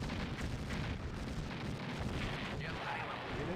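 In the real-time strategy game Command & Conquer: Blue Alert, an explosion rolls out as a broad, sustained rumble amid ongoing battle noise, loud and unbroken for several seconds.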